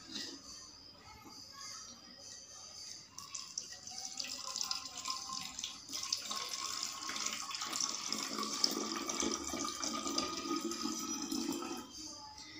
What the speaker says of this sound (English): Fill the bottle with lukewarm water.